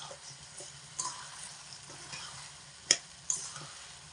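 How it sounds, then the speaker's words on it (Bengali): Mutton curry in a pot, stirred with a metal spatula after the lid comes off, steady soft sizzle beneath occasional scraping strokes and a couple of sharp metallic taps, close by. "এবার খুন্তি দিয়ে মাংসটা একটু নাড়াচাড়া করে নেব।"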